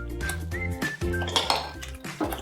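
Vegetables being tipped into a pan one by one, green beans, carrots and more, giving light clinks and clatters of utensils against cookware, close and fairly quiet, with irregular taps.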